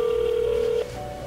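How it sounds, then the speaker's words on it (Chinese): In the GTA video game, a telephone rings with a single steady electronic tone that lasts almost a second and then cuts off to quiet background. "电话响起来了，是爸爸哎"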